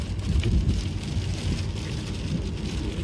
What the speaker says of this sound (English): I'm assuming it's not as fun when it's raining like this.